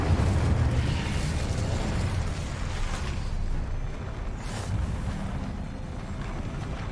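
A fiery Incendio spell erupts in the Hogwarts Legacy video game, a loud, sustained roaring blast of flame that rumbles steadily for several seconds with no voices over it.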